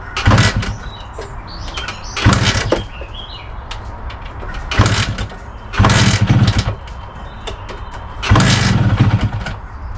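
A rare 42-year-old Suzuki engine, freshly fuelled, is cranked in several separate bursts of about a second each with quieter pauses between them. The attempts sound close and fairly loud, with no voices.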